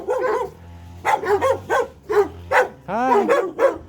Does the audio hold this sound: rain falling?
no